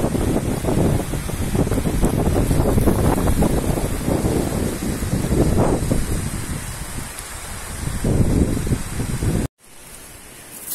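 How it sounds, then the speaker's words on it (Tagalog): Rough sea waves crash and churn under strong gusting wind during a storm, a dense, continuous roar with swelling surges, loud and close to the microphone, ending abruptly. "malabo yung dagat ngayon kasi may bagyo."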